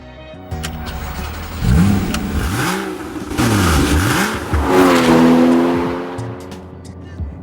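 A Porsche Cayman S revs hard through several rising and falling engine sweeps, loud and close, with tyre noise and a brief gear change break, then settles into a steadier high-pitched drone before fading.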